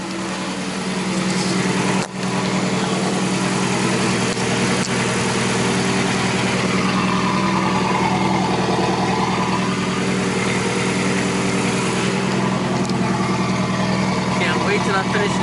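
A Honda Accord with an H2B all-wheel-drive swap and a custom, unfinished exhaust idles loudly and steadily up close, with a brief dip near the start and voices talking over the running engine.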